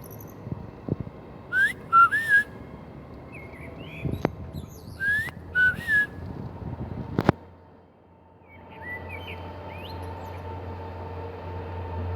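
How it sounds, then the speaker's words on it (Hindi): A blackbird sings outdoors in short, clear whistled phrases that come in bursts with pauses between them. A faint, steady low hum runs underneath. "देखिए जी ब्लैक बर्ड आ गया है और इस वक्त वो गाना गाने के मूड में है"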